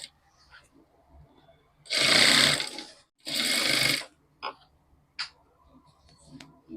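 A sewing machine stitches across folded cloth while piping is made, two loud sustained bursts of whirring running about a second each, separated by a pause and followed by small handling clicks.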